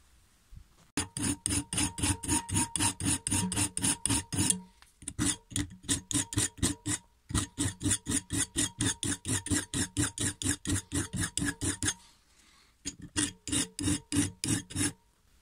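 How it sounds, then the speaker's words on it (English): A hand file rasps over the cutting edge of a string trimmer head, sharpening it in steady rhythmic strokes, close and loud, in several bursts broken by short pauses. "just run a file or a little Dremel or something like that, getting this nice and razor sharp"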